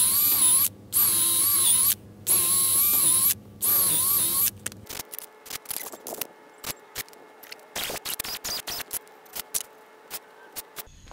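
A power drill whines in three sustained bursts with short pauses, loud and close while drilling a workpiece for wheel chocks and stands, followed by scattered clicks, taps and handling noises as bits are changed.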